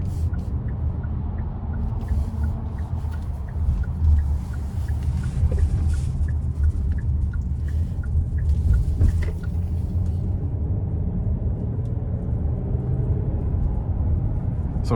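A 2024 Hyundai Palisade Limited accelerates on the interstate in sport mode, a steady low engine and road rumble heard from inside the cabin, building gently over fifteen seconds with faint clicks and no talk.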